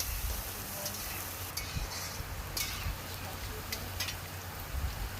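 Potatoes frying in oil in a pan, a steady low crackling sizzle with occasional stirring clicks, fairly quiet and continuous.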